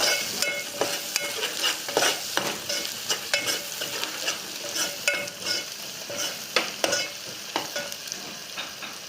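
Onions fry in a pan for chicken gizzard fry, with a constant bright sizzle and repeated spoon scrapes and taps at an uneven rhythm, close and clear, with no talking.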